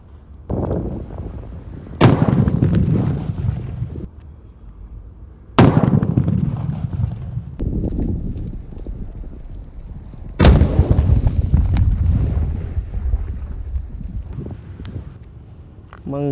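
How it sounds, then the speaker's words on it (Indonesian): Titanium cracker firecrackers set off during Eid al-Fitr celebrations, with three loud, sharp booms each followed by a long rumbling decay, separated by quieter gaps with some background noise. "Kita nyalakan. Titanium cracker"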